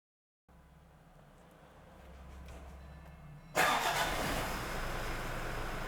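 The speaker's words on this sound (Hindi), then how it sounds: "ओके, सो इंजन स्टार्ट हो चुका है।" Toyota Fortuner 4x4 diesel engine cranking with a low steady starter whir for about three seconds, then catching with a sudden loud burst and settling into a rough running roar, close by.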